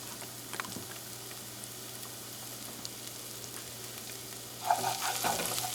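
Faint, steady crackle of chicken and tofu stir-frying in a hot pan, growing louder and more vigorous toward the end.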